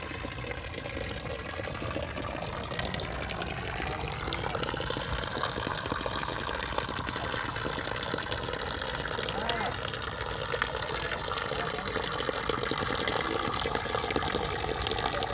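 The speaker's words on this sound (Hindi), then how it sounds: "ये देखिए जी पानी ये वो कोठे पे पानी जो जमा हुआ है पड़ा है ये बह रही है" Rainwater pooled on a rooftop gushes out through a roof drain spout during a fierce storm, a steady, loud, continuous rush of falling water with no break.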